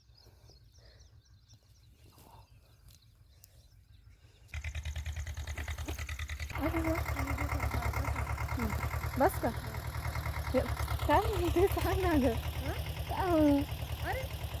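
Farm tractor engine running in a field, a steady low chugging drone that grows louder partway through and continues under people talking.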